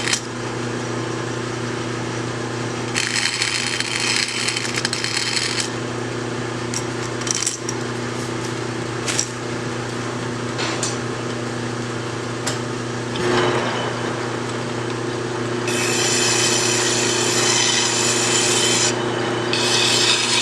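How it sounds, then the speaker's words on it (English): Deburring a metal edge on a part for a scrapyard-built saw, heard as close, steady rasping and rubbing strokes in several bursts, with brief clinks and a constant low machine hum underneath and no talking. "I'll just deburr this edge and that'll be pretty much done."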